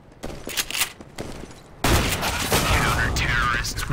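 Gunfire in the video game CS:GO, a burst of close rapid shots and a loud sustained volley of overlapping fire, with faint game sounds in between.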